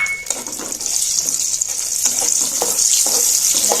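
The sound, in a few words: whole spices frying in hot oil in a wok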